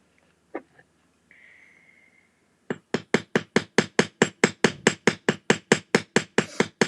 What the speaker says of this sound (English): rivet there down flat so it sticks together